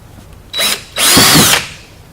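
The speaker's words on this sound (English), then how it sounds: "next we're going to drill two holes where we just marked them here" A power drill boring two holes during installation of an EMP flip-up windshield on a Polaris General UTV: two loud close whirring bursts, a short one and then a longer one, with a quiet pause between and no talking.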